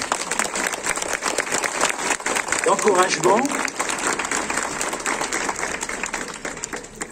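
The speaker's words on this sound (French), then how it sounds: "D'abord, on va les applaudir" An outdoor rally crowd in Corbeil-Essonnes claps in a dense, continuous round of applause, while a speaker's voice talks over it through most of the stretch.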